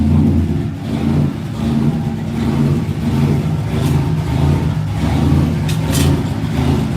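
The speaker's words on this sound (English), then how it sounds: "Let's fire this thing up. Listen to that idle." A car engine with a big cam idles loudly and up close, its lumpy, uneven rumble pulsing steadily for several seconds with no voices.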